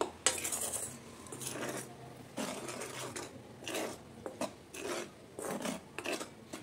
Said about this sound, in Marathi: हे छानपैकी मी मिक्स करून घेणार आहे